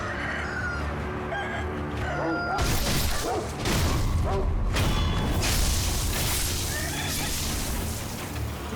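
A chicken crows and clucks inside the samurai action game Sekiro: Shadows Die Twice, sitting amid dense game effects, thuds and background music, with a voice talking over it.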